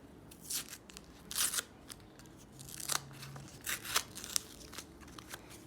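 A paper surprise packet is torn and unwrapped by hand, giving bursts of crisp paper tearing, snipping and crinkling that come in irregular clusters close to the microphone, with no talk.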